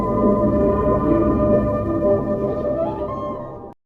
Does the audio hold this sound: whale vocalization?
yes